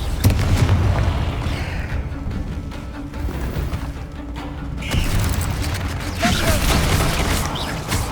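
Repeated Confringo blasting-spell explosions in the Hogwarts Legacy video game: dense, rumbling booms that swell and fade over several seconds, with a second burst arriving midway amid game ambience.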